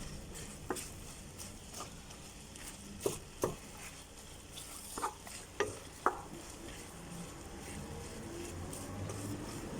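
Roughly chopped onion being stirred into a pot with a spoon while preparing Dominican moro, producing scattered soft scraping clacks and light sizzle against a steady low background, with no one speaking.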